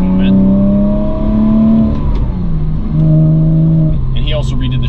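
A Porsche 987 Boxster S with an aftermarket cat-back exhaust revs close by, its engine note rising, dropping and rising again in loud throaty pulls while someone talks over it.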